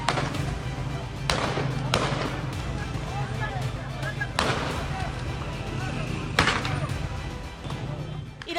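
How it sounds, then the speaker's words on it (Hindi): Gunfire from security forces at street protests in Iran, heard as several loud sharp cracks spaced a second or two apart over constant crowd noise and voices. "ईरान के कई शहरों में गोलियों की ऐसी ही तड़तड़ाहट सुनाई दी।"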